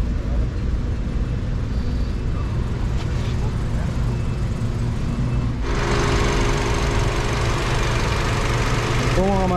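Toyota Camry A25A-FKS engine idling steadily in a low, even hum after a connecting rod replacement, close and continuous, with a shift to broader noise partway through.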